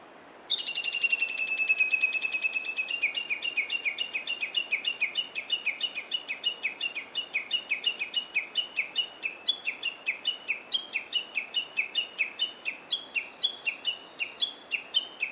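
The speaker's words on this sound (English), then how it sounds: "This is a warming sound you can hear." A Japanese bush warbler at Isaka Dam Park gives its warning call near a nest, a long run of rapid, evenly repeated sharp chirps that keeps a steady rhythm throughout, clear and fairly close over a quiet background.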